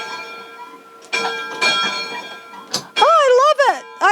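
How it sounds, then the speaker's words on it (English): The bell of an ALCO steam locomotive on museum display rings out in loud, close, repeated clangs that sustain bright tones, while people talk and exclaim over it. "first you have to ring the bell for us"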